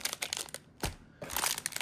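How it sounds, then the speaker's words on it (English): Trading cards from a 2025 Series 1 jumbo box are shuffled by hand, a soft crinkly riffle of flicking and sliding card stock with brief bursts and a short pause, quiet and close. "Just a nice little shuffle."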